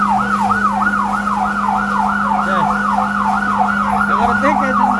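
A fire service truck's siren wails continuously at a building fire, loud and close. Its rapid rising-and-falling sweep repeats steadily over a constant engine drone.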